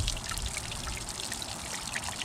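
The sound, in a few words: water running out of a flushed Mercury outboard engine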